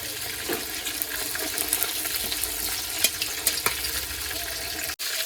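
Dried red chillies and bay leaf frying in hot oil give a steady, moderate crackle with scattered pops and one brief dropout near the end.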